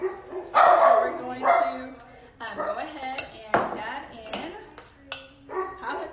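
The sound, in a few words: dogs barking in the background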